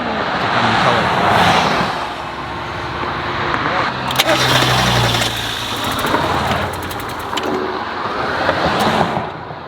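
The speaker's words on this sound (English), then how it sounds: "Well, it looks like the car is running." A broken-down Mazda Miata's engine idles steadily close by at a roadside, a low continuous rumble with some faint clicks and broadband noise layered over it.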